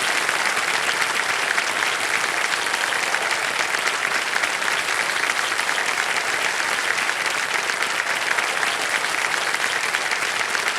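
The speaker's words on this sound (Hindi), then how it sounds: "ताली बजती है।" Studio audience at a quiz show breaks into sustained, loud applause, a dense wash of clapping that holds steady for about ten seconds with no voices on top.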